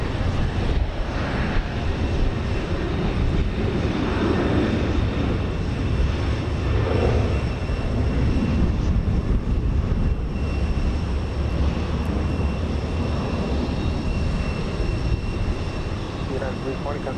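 A United Boeing 737-900 airliner on its takeoff roll and climb-out from Houston Intercontinental, a steady, loud broadband jet roar holding for the whole stretch, with voices talking over it.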